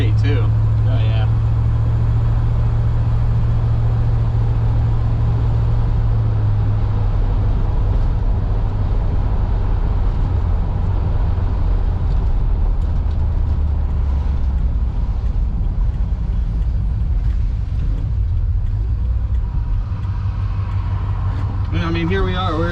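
A 1956 Ford Thunderbird creeps along in stop-and-go traffic, its engine a steady low rumble with some wind noise, and someone talks over it throughout.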